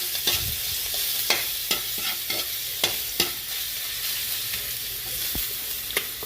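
Ginger and garlic sautéing in oil in a pan for a chicken soup, a steady hissing sizzle punctuated by a dozen or so sharp spatula scrapes and taps at uneven intervals, close by, with no one talking.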